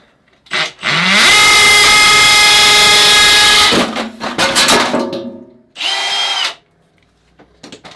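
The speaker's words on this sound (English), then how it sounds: "So then I'll drill these holes." A power drill bores holes for a roller blade rack, whining loudly in one sustained burst, then chattering through a few shorter spurts and a final brief run.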